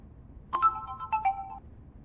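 A mobile phone gives a short electronic ringtone, a few clear tonal beeps over about a second, moderately loud over a quiet background hum.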